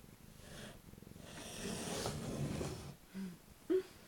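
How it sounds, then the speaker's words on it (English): A soft, low rumbling purr from a cat, close by and quiet, breaking off near the end into a couple of short snuffly breaths. "He's purring, the silly bugger."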